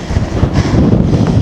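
Strong gusts of wind, around 50mph, buffet the microphone on an exposed Scottish hillside, producing a dense, loud, continuous roar without pause.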